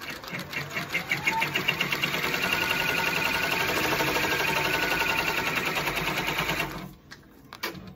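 An embroidery machine stitches a design onto a towel, its needle hammering in a fast, steady mechanical rhythm at close range for about seven seconds before stopping abruptly, leaving a quieter hum.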